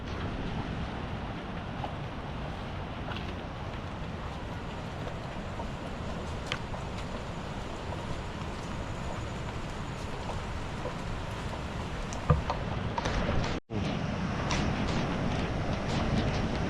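The Kondi mini waterfall in monsoon season gives a loud, constant roar of rushing water, broadband and steady for the whole stretch, close by, with no voices over it.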